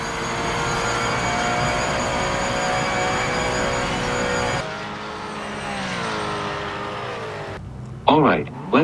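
Porsche 911 GT3 R (992) race car in the Project Motor Racing video game, its engine droning steadily and loud for several seconds, then the pitch sweeping as it shifts and revs, with a sharp burst near the end.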